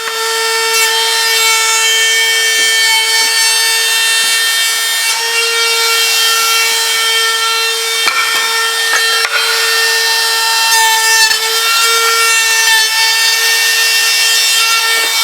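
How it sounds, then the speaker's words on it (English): Router trims polyethylene material in a loud, continuous high-pitched whine with a steady tone, cutting close up and shifting slightly as it moves along the edge, no speech. "we've just routed it to take that 1/16 of an inch off"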